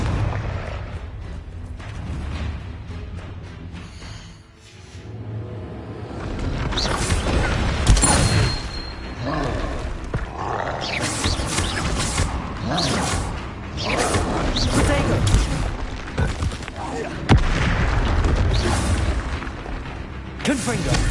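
Confringo fire-blast spells cast in Hogwarts Legacy on PS5, a dense run of heavy booms and bursts layered over game music and combat noise, loud and continuous with repeated explosive hits.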